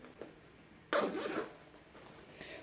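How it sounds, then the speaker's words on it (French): Zipper on a handmade sewn fabric handbag with a flap and shoulder strap, one quick close zip pull followed by faint handling rustle, alone and fairly quiet. "lorsque l'on ouvre, elle a également une fermeture éclair"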